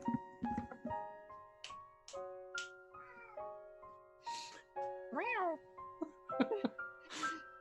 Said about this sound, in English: The big thing is when I hear cat noises